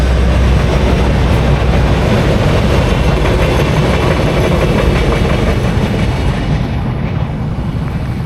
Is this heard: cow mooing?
no